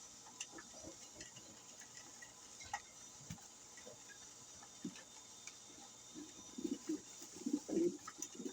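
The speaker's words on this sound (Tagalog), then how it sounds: "Napakagandang kalapati naman ito." Pigeons kept by a fancier coo softly in low, throaty bursts that grow a little more frequent toward the end. Faint ticking sits in the quiet background.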